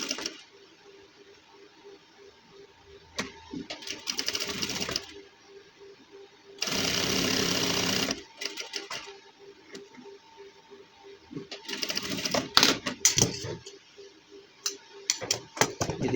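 A sewing machine runs in short bursts while stitching a gents suit, with the motor whirring in several separate runs, one long steady stretch in the middle and quieter pauses between, close and fairly loud.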